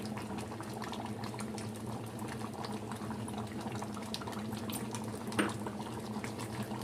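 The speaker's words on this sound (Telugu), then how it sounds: "ఇప్పుడు దీన్ని ఇట్లాగే సిమ్లో పెట్టుకొని ఒక 2 నిమిషాలు అట్లా సిమ్లో ఉంచేసి బంద్ చేసేద్దాం." Goat head curry with masala and coriander simmering on a low flame, a steady soft bubbling and gentle liquid burble close by, with one brief louder pop near the end and no voices.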